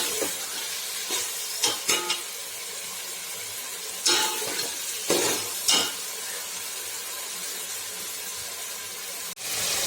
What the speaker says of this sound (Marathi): आता याच्यामध्ये आलं लसूण कोथिंबीर याची पेस्ट ओतलेली आहे आणि आता हे सर्व एकत्र भाजत आहे